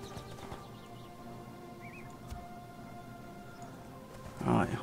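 Horse hooves clip-clopping in the online game ArcheAge, a soft steady patter of footfalls under a low background drone, with people talking briefly near the end.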